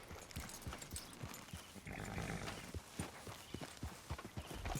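Horse hooves clip-clop in a steady walking rhythm in the Red Dead Redemption 2 western game, fairly close and distinct over ambient game sounds, with a faint whinny-like texture mixed in.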